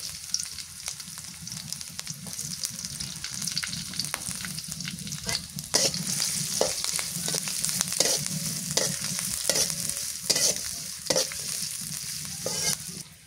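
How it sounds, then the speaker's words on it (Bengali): Onions and green chillies fry in a pan with steady, close sizzling, stirred throughout with scraping strokes and clinks of the utensil against the metal. "পেঁয়াজ মরিচ ভাজা হয়ে গেছে।"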